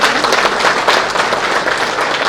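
Dense applause from an audience filling a hall at a Tamil film producers' candidate introduction meeting, steady and loud throughout with no break.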